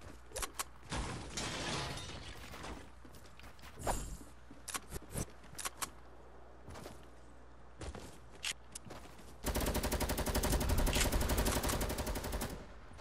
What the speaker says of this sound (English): Where's the gunshots coming from?